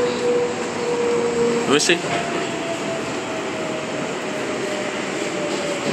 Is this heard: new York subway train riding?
yes